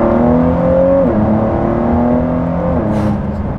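A loud, close 2019 Ford GT supercar engine revs with strong tonal harmonics, the pitch dropping at gear changes before fading slightly.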